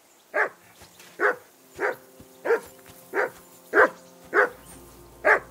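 In Kingdom Come: Deliverance 2, a hound keeps barking at a steady pace. Eight distinct barks come about once every seven-tenths of a second, close and clear over a low hum, with no voices.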